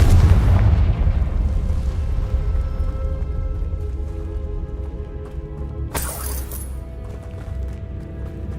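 The Confringo explosive spell in Hogwarts Legacy cracks out as a sharp, bright burst partway through, rising over a steady low rumbling background.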